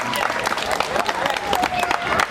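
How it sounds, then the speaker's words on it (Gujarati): An audience claps for a devotional bhajan in a hall, producing a lively wash of applause with some cheering, while voices carry through it. "આ ભજન માટે તાળીઓ થવી જોઈએ સાહેબ."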